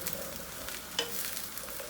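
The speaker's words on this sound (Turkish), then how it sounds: "Yağımız ısındı hemen patlıcanları döküyoruz. Şöyle bir karıştırıyoruz." Eggplant pieces frying in hot oil crackle and sizzle steadily while a utensil stirs them, with one sharper scrape near the middle, close and fairly quiet, no voices.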